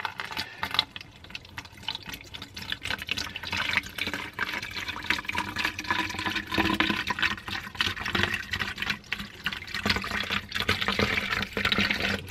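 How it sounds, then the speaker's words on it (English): Water running steadily into a container for a doll unboxing toy, a continuous moderately loud splashing gush lasting the whole stretch with no talking. "And now we're going to fill it with water."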